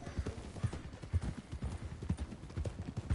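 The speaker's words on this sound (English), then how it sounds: "Get a hold of that horse, will you?" Horse hooves clip-clop in Red Dead Redemption 2, a quick, uneven trotting rhythm of close, soft thuds with a faint background bed and no talk.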